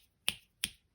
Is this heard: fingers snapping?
yes